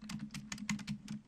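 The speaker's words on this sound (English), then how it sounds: "whenever I type on the keyboard" Quick clicking keystrokes on a computer keyboard, about a dozen taps in an uneven typing rhythm, close but quiet, with no voices.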